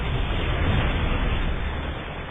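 Siege tank cannon fire and explosions in a StarCraft match, a dense continuous rumble of booming blasts and bursts throughout, loud and without any voice.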